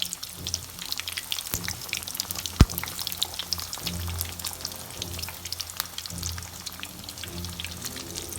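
Cauliflower florets fry in a pan of hot oil with a steady, close sizzle and scattered crackles and pops, plus one sharp click partway through.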